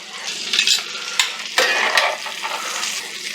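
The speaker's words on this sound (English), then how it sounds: "Now they're cooking in hot ass butter and oil and fat from that steak" Asparagus frying in hot butter, oil and steak fat, a loud close crackling sizzle with a few sharp scrapes and stirring bursts through the middle, with no voices.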